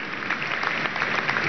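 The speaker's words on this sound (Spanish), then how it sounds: "un gran aplauso" Applause from a large crowd at a medical graduation ceremony in the Poliedro de Caracas, a dense, continuous clatter of clapping that carries on through the short stretch.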